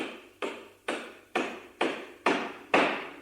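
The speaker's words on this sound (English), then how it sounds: "The sound of a hammer banging on a table made from wood from a Viennese church" A hammer bangs six times on a wooden table made from the timber of a Viennese church, with evenly spaced, sharp, moderately loud strikes, each ringing briefly before the next blow, and no voices.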